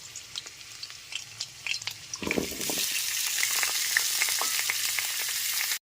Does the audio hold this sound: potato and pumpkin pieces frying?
yes